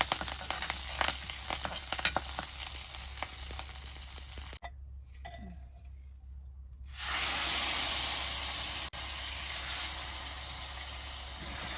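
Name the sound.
tempering cumin, dried red chillies and curry leaves sizzling in oil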